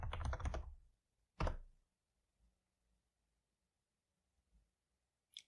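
A computer keyboard's Enter key pressed while coding in JavaScript: two or three sharp, close clicks and thuds with quiet gaps between them.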